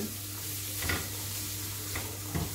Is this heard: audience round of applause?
no